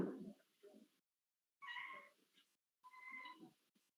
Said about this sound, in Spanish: ¿Qué fue el gato?